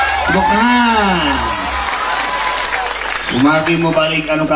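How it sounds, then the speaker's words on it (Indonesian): A crowd at an Islamic sermon claps steadily while voices sing "ahlan wa sahlan" over the applause, fairly loud and close throughout. "Tepuk tangan."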